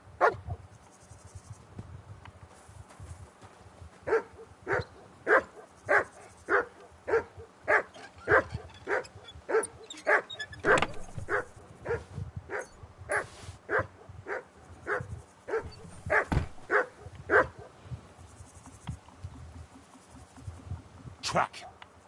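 A dog in the video game Kingdom Come: Deliverance 2 barks repeatedly in a steady, rhythmic series, fairly close and clear, with a few quiet pauses between runs.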